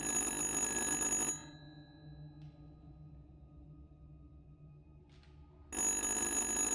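A telephone rings in the video game Little Hope, a short electronic ring at the start and again near the end, with near silence and faint background tones in between.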